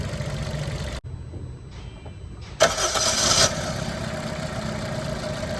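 A Maruti Dzire petrol-CNG car with a cylinder misfire starts up: a brief cranking gap, then a loud catch and rev into a steady, rough idle that carries on close by.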